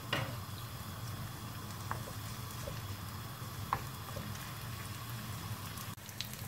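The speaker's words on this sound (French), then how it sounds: "un peu d'huile dans une poêle. On va, faire, on va faire frire un oignon. À côté, je vais mettre mon steak haché." An onion and a minced beef steak fry side by side in oil in a pan, giving a soft, steady sizzle and patter with a few faint clicks, low and even throughout, no voices.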